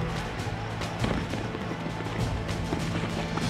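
Battle sound effect of musket gunfire with sharp cracks and pops scattered irregularly over a rumbling background, moderately loud and somewhat distant.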